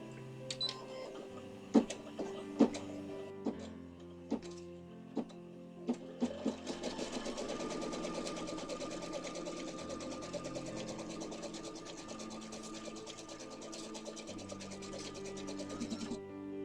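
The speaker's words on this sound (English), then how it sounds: "Then we're going to run a placement stitch for the horizon." An embroidery machine stitches a placement line for a horizon, opening with a few slow, separate clicks before settling into a quiet, fast, steady mechanical tapping that runs on without talking.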